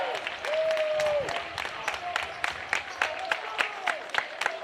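Home crowd in a high school boys basketball gym roars, then settles into rhythmic, evenly spaced clapping, with a sustained shout or whistle early on and a commentator talking over the noise.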